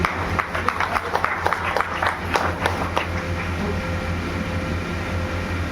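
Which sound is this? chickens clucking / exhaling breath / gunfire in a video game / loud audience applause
loud audience applause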